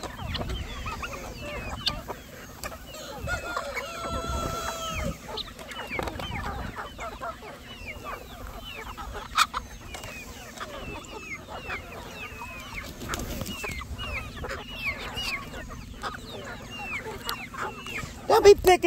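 Chickens on a homestead cluck and call in short, scattered bursts, near and far, across a steady low hum, with people talking intermittently among them.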